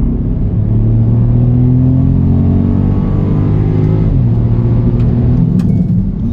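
Ford Puma ST facelift three-cylinder engine idles and revs with a deep, loud, steady rumble, its pitch shifting slightly partway through, with no talking.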